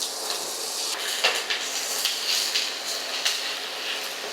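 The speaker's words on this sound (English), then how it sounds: "put in some oil, and let's drop in the onions and bell peppers" Onions and bell peppers sizzle steadily in oil in a hot skillet, a constant crackling hiss with a few light clinks of a utensil against the cookware.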